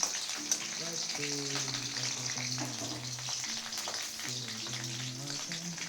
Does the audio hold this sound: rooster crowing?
no